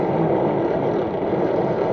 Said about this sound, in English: now I'll give it full throttle, and you should hear the sound system rev up and switch gears